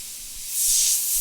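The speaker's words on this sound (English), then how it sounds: "This is meant to be a beginner airbrush." A Gaahleri Seeker beginner airbrush sprays in a brief, airy hiss that swells louder halfway through, heard close and alone.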